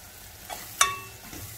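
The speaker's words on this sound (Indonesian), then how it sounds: "Bawang bombay kita tumis sampai sedikit layu ya." Onions sautéing in a pan for spaghetti bolognese, a soft low sizzle with a single sharp metallic clink of a utensil partway through, brief and fairly quiet.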